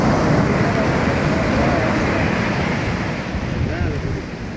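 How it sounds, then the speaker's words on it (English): Hurricane-driven shore break waves crash at Sayulita Beach, a loud, roaring surf with heavy wind buffeting the microphone that eases slightly toward the end. "This is right, shore break."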